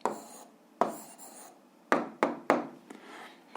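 A pen scratches across paper in short separate strokes, close and quiet, with small pauses between marks as an answer to a physics exercise is written down.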